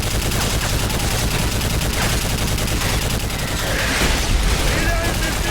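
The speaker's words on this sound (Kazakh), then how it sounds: "Стреляют из миномета!" Mortar fire on a battlefield, set within a dense, continuous barrage of gunfire and booms that stays loud and unbroken throughout.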